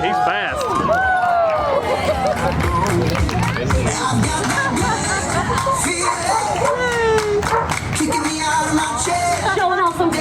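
A crowd at an outdoor rescued-dog show cheers and shouts loudly and without a break, children's voices mixed in, while people talk over the noise.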